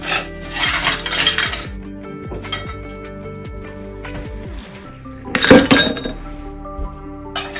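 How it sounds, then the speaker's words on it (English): Ice cubes dropped into a glass for a blue mocktail, giving a scatter of bright clinks and clatters, then a louder burst of ice knocking together near the end. "Next thing is I'll fill up my glass with some ice."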